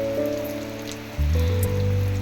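Heavy rain falling near the Tamil Nadu–Kerala border makes a steady loud hiss, with a low hum underneath that grows louder partway through.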